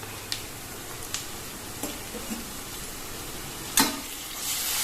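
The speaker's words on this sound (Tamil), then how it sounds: "இஞ்சி பூண்டு பச்சை வாசனை போகணுங்க, அந்த அளவுக்கு வதக்கிக்கணும்." Sliced onion sautés with ginger garlic paste for a 65 pulav rice dish. A soft, continuous frying hiss runs through the clip with a few sharp scraping and tapping strokes of a spatula, one louder near the end.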